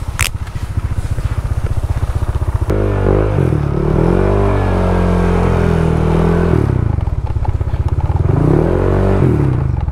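A motorcycle fitted with a newly refibered JVT V3 exhaust revs loudly up close, its throttle swelling and falling in several pulls over a rumbling idle.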